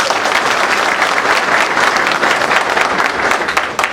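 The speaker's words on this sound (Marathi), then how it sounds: "जोरदार टाळ्या वाटून" An audience at a civic felicitation ceremony applauds loudly and steadily, a dense wash of many hands clapping that carries on throughout and tapers slightly at the end.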